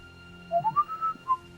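A person whistles a short rising then falling tune of a few notes, imitating the whistling of a ghost's severed head, close and clear with faint background tone and no talk.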